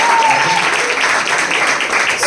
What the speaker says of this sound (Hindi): क्यों ना हम उनके लिए ताली बजाएं।